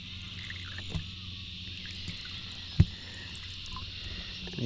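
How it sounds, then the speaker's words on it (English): Cicadas buzz beside a lake during bass fishing, forming a steady, faint high-pitched drone throughout, broken by a couple of soft knocks and a thump, with no talking. "With the beautiful sounds we're hearing, the cicadas"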